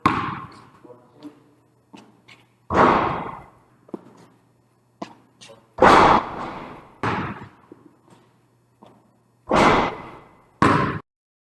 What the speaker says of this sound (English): So it can shoot or dribble. So dribble.